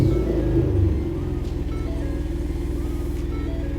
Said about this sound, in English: Now that everything's turned off, let's restart the vehicle.